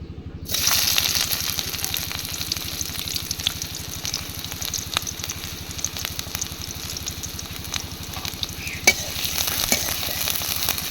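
Onions sizzle steadily as they fry in mustard oil in a pan, a continuous close hiss with occasional stirring scrapes and no talking.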